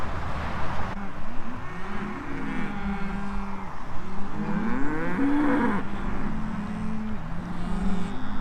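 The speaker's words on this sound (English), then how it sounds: "Usually this black cow's the handy one because she'll follow you anywhere, and once she goes the rest of them tend to follow" A cattle herd moos repeatedly as it is moved through a farm gateway, several loud, drawn-out lowing calls overlapping close by over a steady engine drone.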